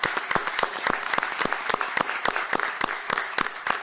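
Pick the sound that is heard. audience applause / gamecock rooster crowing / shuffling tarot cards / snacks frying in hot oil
audience applause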